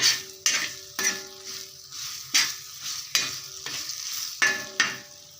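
Green chillies fry in a pan under a constant hiss, while a spoon stirs them in rhythmic scraping strokes about once a second, close and clear, with no voices.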